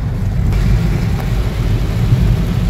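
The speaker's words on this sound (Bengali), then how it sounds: "প্রচণ্ডই বৃষ্টি হচ্ছে।" Heavy rain on a car during a road trip from Kolkata, heard from inside as a loud, dense, continuous roar of rain and rumbling road noise, with no voices.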